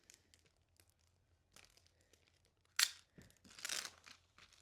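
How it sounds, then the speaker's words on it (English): Plastic packaging pulled off a model F4U Corsair aircraft box: quiet rustles, then two sharp bursts of crinkling and tearing close by. "let me just take this packaging off"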